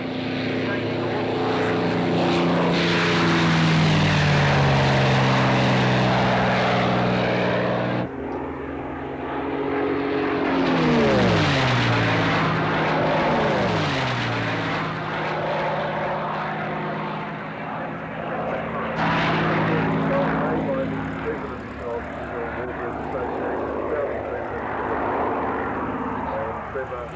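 Two P-51 Mustang warplanes take off at an airshow, propeller engines roaring loud and steady with a rising, shifting drone, while commentators talk over the noise throughout.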